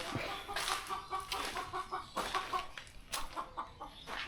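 Chickens cluck close by in quick, irregular bursts, several birds overlapping in a busy, chattering flock.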